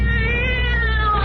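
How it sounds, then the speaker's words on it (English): A cat screams in a vintage radio horror drama, one loud, drawn-out wailing yowl with a strained, wavering pitch, close and alone. "the cat screamed and leaped against the wall."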